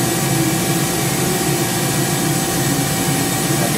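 A Mori Seiki 1500SZ lathe spins at 6,000 RPM, giving a loud, steady, dense whine with gear noise inside the machine. The sound holds without change for nearly four seconds and no one speaks.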